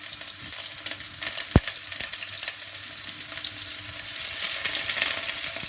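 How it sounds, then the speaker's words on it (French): Shrimp sizzle and fry in two to three spoonfuls of olive oil in a hot wok, a steady, loud crackling hiss with a sharp pop near the middle that swells slightly toward the end. "je fais chauffer donc le wok et je viens y déposer l'équivalent, on va dire, de 2 à 3 cuillères à soupe d'huile d'olive. Ensuite, je viens y déposer les crevettes"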